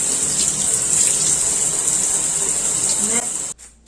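Shower water runs steadily while hair dye is rinsed out at home, a constant hiss and splash with a faint voice under it, then the flow cuts off sharply near the end.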